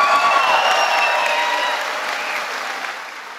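A room audience at a live event applauds the Ottawa Sooners cheer team, with dense, loud clapping and a few faint cheers. The clapping thins out slowly over a few seconds.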